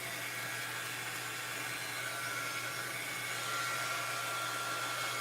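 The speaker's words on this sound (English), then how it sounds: "you can do it this way too with the heat gun" A heat gun blows hot air to dry stained paper, giving a steady, even rushing whoosh with a faint low hum that holds without a break throughout.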